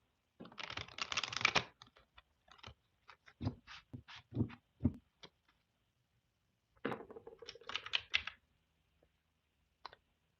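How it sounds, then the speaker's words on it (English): Decks of reading cards shuffled by hand in a quiet room, heard as crisp riffling and clicking bursts in short clusters, with a longer flurry at the start and another later, no talking. "give the decks a shuffle"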